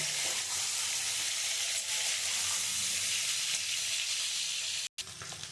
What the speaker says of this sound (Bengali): আমি এবারে আলুগুলো লাল লাল করে ভেজে আমি তুলে নেব।